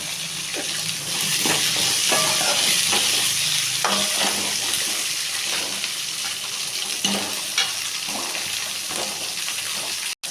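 Onions sauté in a pan for curry leaf rice, a steady loud sizzle with repeated scraping strokes of a spoon stirring them throughout.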